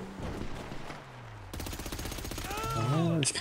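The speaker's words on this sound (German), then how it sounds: "Krieg auch schon ordentlich Schüsse ab." Rapid bursts of gunfire crackle in a busy GTA V Online soundscape, dense repeated shots dominating the second half with tonal electronic effects near the end.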